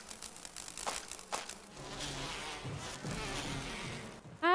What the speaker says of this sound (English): Ah, except you do have more bees after you.